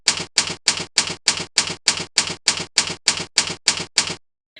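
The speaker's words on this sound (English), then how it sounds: "a realistic typewriter animation complete with typing sound." Typewriter keystroke sound effect from a PowerPoint text animation: about fourteen evenly spaced sharp clacks in a steady rhythm, loud and close, with no voices, ending in a brief faint tick.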